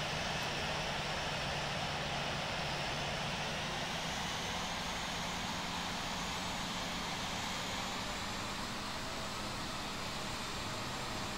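A jet airliner's engines roar at TOGA thrust for takeoff in a flight simulator game, a constant loud broadband rumble holding steady throughout, with no talk.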